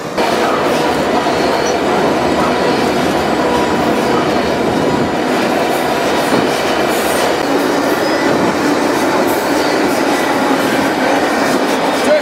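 A freight train loaded with grain, soybeans or corn rolls through open North Dakota countryside, a loud continuous rumble of rail cars with rhythmic wheel clatter and some squealing, close by and with no talk.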